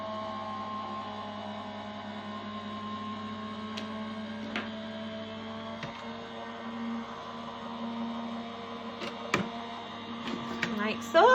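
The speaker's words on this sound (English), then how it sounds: "rotate 90 degrees and run that through your die cutting machine" A die cutting machine grinds steadily as a card sandwich with a circle die passes through its rollers, giving a low, even motor hum with a few faint clicks and creaks. The sound is close and runs without pause.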